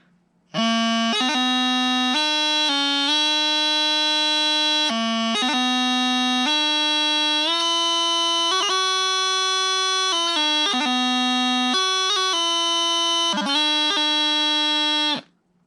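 The opening section of In Christ Alone plays in full on a bagpipe practice chanter: a continuous, reedy melody of held notes broken by quick grace-note ornaments, close and solo for about fifteen seconds.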